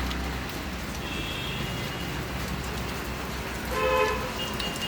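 Heavy rain pours steadily in Manali, a dense, even hiss that lasts the whole stretch, with brief vehicle horn toots cutting through near the start and again toward the end.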